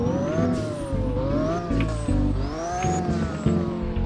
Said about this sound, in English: It's just like the same real sound as Lamborghini.